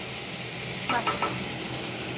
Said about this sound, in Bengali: মাছটা একটু ভেজে নিচ্ছি